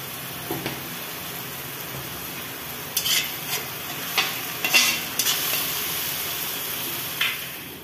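Spice masala of garam masala, coriander, turmeric and chilli powders cooking with potato and pointed gourd, a constant hiss of frying broken by a run of spoon-against-pan scrapes and clinks near the middle.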